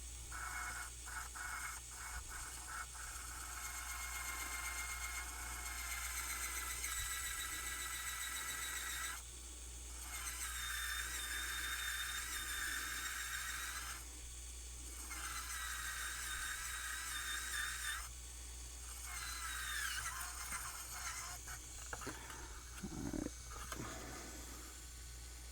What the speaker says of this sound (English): All this has to be drilled away anyway